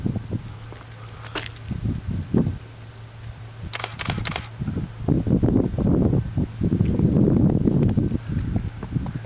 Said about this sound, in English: that sound you hear is a shutter release for a Canon EOS 5D2.